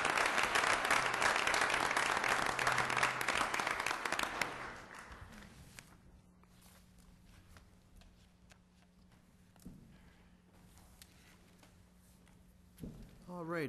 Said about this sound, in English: Let's have a little round of applause for Mr. Hull, who's definitely taken up this